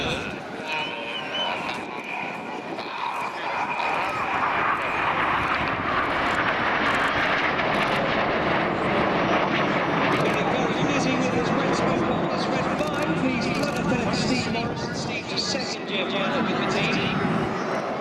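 RAF Red Arrows Hawk jets roar through an aerobatic display at Airwaves Portrush air show, performing the Twister with one jet rolling around a four-jet box formation, a loud, sustained engine rush under continuous commentary.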